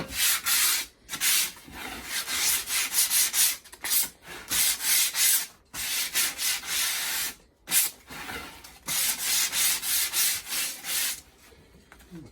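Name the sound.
sanding panel edges with 120 grit sandpaper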